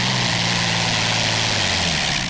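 Pulling tractor powered by a 2,500 horsepower Allison engine at a 1996 European tractor pulling event in Bernay, France, a loud, continuous deep engine roar heard at a distance without pause.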